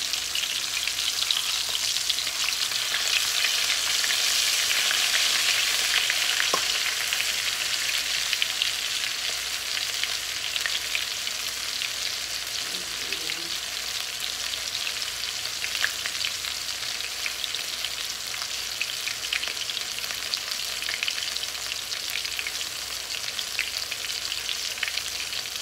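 Pork chop coated in cassava flour frying in a pan, a loud, steady, crackling sizzle that runs without a break from start to finish, with no talking.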